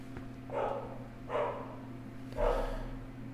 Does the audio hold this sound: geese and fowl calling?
no